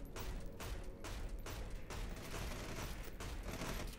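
Rapid bursts of automatic gunfire rattle continuously in Red Solstice 2, dense repeated volleys with brief gaps between strings of shots, steady and fairly loud with no voices over them.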